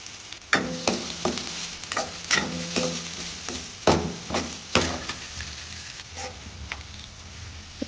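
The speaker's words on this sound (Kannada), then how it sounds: "ಇಷ್ಟು ನೀಟಾಗಿ ಫ್ರೈ ಮಾಡ್ಕೊಳ್ಳಿ" Garlic and onion fry in a pan for shavige uppittu, with steady sizzling under repeated scraping and stirring knocks of a utensil against the pan, close and fairly loud.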